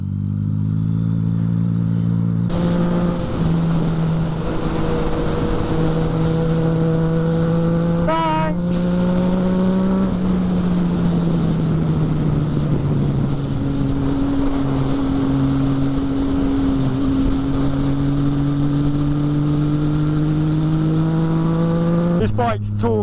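A Yamaha MT-09 motorcycle engine drones steadily while riding, revving up and shifting pitch a few times, with wind rushing constantly over it.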